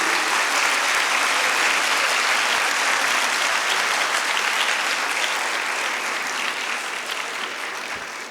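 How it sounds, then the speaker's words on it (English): Sustained applause from a large audience at a medical university convocation ceremony, dense and even clapping that holds for several seconds, then slowly tapers off. "I need more applause for Mr. Eidi."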